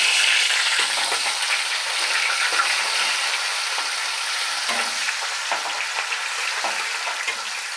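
Onion hits a pan of caramelized sugar and sizzles hard and close, with light stirring scrapes and a hiss that settles slightly over the few seconds.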